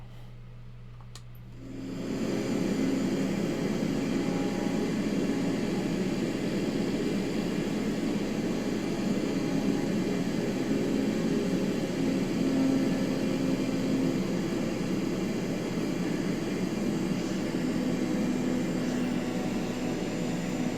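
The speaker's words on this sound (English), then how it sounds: "TBM 930, there it is right here, TBM 930. An amazing airplane. It's a single engine, but it's very powerful." TBM 930 single-engine turboprop airplane in Microsoft Flight Simulator: after a brief quiet moment, a loud, steady engine and propeller drone with an airy hiss sets in and holds unbroken to the end.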